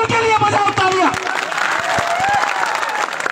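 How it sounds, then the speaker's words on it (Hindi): Crowd applause at an outdoor stage event marking Rana Punja Bhil's birth anniversary, a dense burst of clapping with voices and shouts mixed in, loud at first and then continuing more thinly. "उनके लिए बजाओ तालियां"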